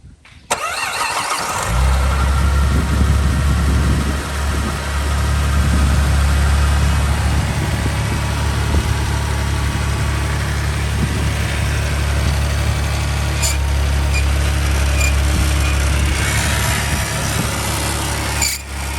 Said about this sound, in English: the tension of pulley is making that noise